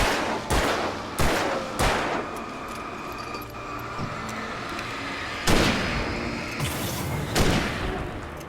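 Rifle gunfire in the video game Alan Wake Remastered on PS5: loud, sharp shots, three in quick succession, then a pause and two more spaced shots over a low rumbling background.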